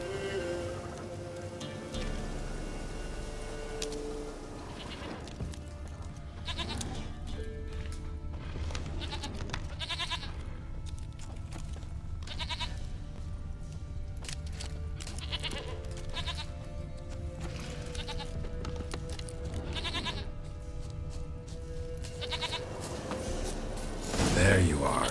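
Goat bleats in The Witcher 3: Wild Hunt, several short cries spaced through the scene alongside game music and ambience, with a voice talking over them.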